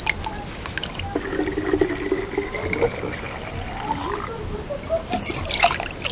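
Water running and splashing as a container is filled for tending paddy straw mushroom beds, a steady liquid wash with faint drips, fairly close, no talking.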